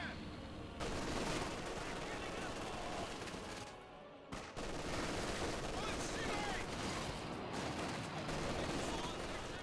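MG42 machine gun fire in Company of Heroes 2 raking a Universal Carrier: sustained rattling bursts at moderate distance, broken by a short pause, with a commentator talking over the battle noise.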